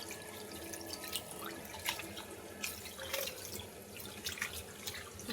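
Tap water running over goat meat being washed in a kitchen, a soft steady splash with faint drips and handling sounds, quiet and without talk.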